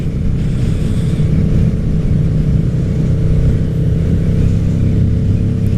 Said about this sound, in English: twist the throttle a little bit, it kind of hesitates